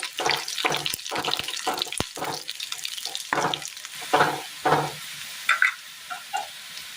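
Dried red chillies frying in hot oil for a Kerala curry, giving close crackling sizzles in short irregular bursts mixed with stirring scrapes, with no talking.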